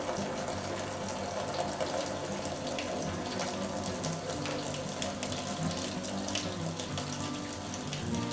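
Wort drains steadily out of sparged grain into a brew pot while a honey brown ale is brewed at home, giving a continuous close splashing, trickling rush of liquid with no talking.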